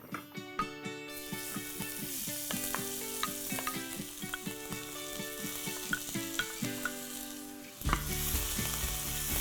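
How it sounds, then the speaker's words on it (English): Onions and carrots hit hot olive oil in a pan, giving a steady close sizzle with bursts of crackle and a louder surge of frying near the end, without any voice. "Just going to heat some olive oil and get the onions and carrots going."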